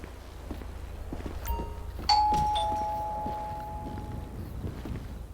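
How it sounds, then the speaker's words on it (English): A doorbell chimes once in the police video game LSPDFR, a clear ringing tone that rings out and slowly decays over low background noise and faint footsteps. "So we're gonna go ahead and ring the doorbell."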